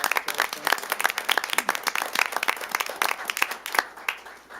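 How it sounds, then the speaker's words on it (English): Round of applause at a city council meeting, a modest group clapping in a quick irregular patter of individual claps that thins out toward the end. "One more round of applause."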